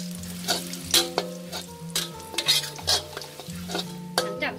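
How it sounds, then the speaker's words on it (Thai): Garlic sizzles in a pan for a Thai minced pork chilli dip, with a steady fry under repeated scraping and clinking strokes of a utensil stirring against the metal. "เราจะเคี่ยวกระเทียมเราให้เหลืองนะคะ"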